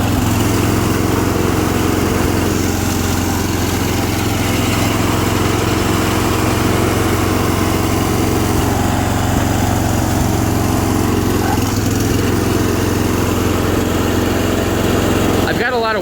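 A John Deere 210 lawn tractor with a Kohler K341 16 HP engine runs continuously and loudly close by, a steady unbroken drone throughout.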